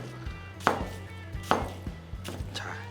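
A knife chops through a quarter head of cabbage on a board in a few distinct, close thuds, steady and unhurried, with no talking.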